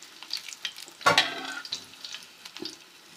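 Besan pieces frying in oil in a pan: a light, continuous sizzle with a sharper crackling burst near the start, as if the pieces are being turned, then quieter bubbling.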